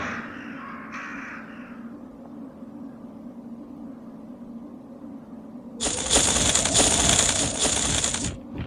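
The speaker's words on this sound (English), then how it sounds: "These crows are also really hard to hit." Crows in the Resident Evil game on Dreamcast caw in a burst of harsh, dense calls during the last three seconds, loud and close. Before that there is only quiet game ambience with a few short, faint cries.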